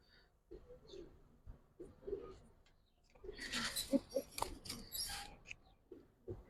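Silver Giribaz pigeons cooing softly nearby, a few low repeated coos, with rustling and handling noises in the middle.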